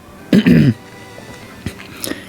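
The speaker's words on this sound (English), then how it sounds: "keep clearing my throat here" A man clears his throat once, a short rough guttural rasp close to the microphone, followed by near silence with a couple of faint clicks.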